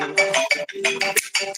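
A phone ringtone plays in a short electronic melodic burst of bright, warbling tones, loud and close, with no talk over it.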